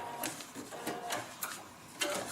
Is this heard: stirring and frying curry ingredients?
no